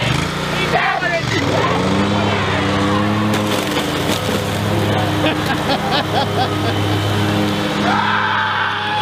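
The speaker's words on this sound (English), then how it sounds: "Mowing my games over." A lawn mower engine drones steadily and loudly while running over a pile of video games, with cracking and splintering plastic crunches throughout and someone shouting over the noise.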